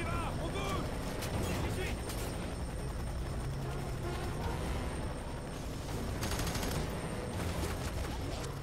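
A barrel blows up amid a sustained burst of gunfire in the shooter game F.E.A.R. 3, loud, dense and continuous, with battle noise filling the whole stretch.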